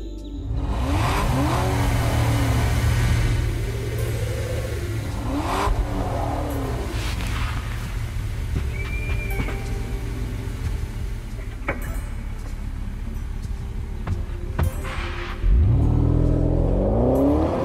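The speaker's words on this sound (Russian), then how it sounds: "Хочется сказать Ирине Мироновой за вот этот рык автомобиля в конце" Car engine roaring at the close of a Russian radio-station song, a sustained loud growl with rising revs sweeping up and down through several accelerations, then a sharp rev surge near the end, all steady and without speech.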